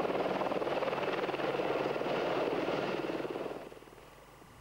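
An Mi-28 Havoc attack helicopter thunders past with a dense, steady rotor and engine roar that fades noticeably toward the end, heard alone without talk.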